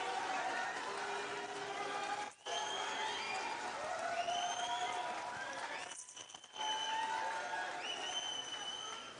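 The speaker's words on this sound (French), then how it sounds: "Sous vos applaudissements, s'il vous plaît." Crowd at the Ecofest opening ceremony applauds and cheers over background music, with whoops and scattered shouting mixed in and two brief dips where the noise cuts out.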